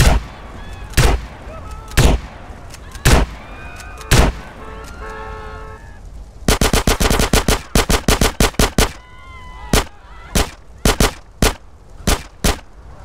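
Gunfire in GTA San Andreas: sharp single shots spaced about a second apart, then a rapid burst of automatic fire, followed by further evenly spaced loud cracks, with faint honking sounds in between.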